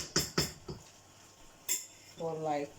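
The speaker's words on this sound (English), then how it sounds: "Okay, so now I'm stirring this." A spoon stirring lasagna sauce in a pot, giving a few quiet metallic clinks and scrapes against the side, followed by a brief voice near the end.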